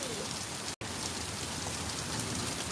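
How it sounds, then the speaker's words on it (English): Pea-sized hail falling steadily, a dense continuous patter of small ice pellets striking surfaces close by, loud and unbroken apart from a momentary dropout, with no voices. "Yeah, we're seeing some more hail now."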